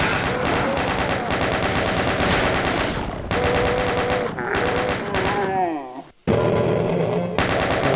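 Gunfire from the video game Doom comes as dense, loud rapid-fire shots that run almost without a break under busy game sound, with a brief dropout near the end before the firing starts again.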